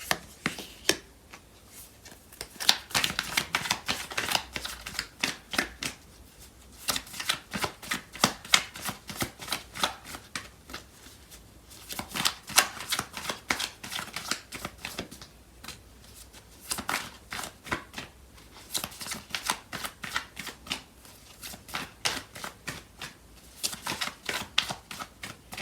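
Tarot cards shuffled during a love reading, with bursts of quick crisp riffling and flicking that come in repeated waves, close and fairly loud, and no voices.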